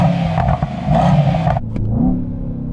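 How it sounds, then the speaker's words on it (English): A performance estate car, a Mercedes-AMG E63 S, revs hard, with loud, close engine roar and throttle blips that drop to a lower rumble before rising again. "Sam, you rev yours"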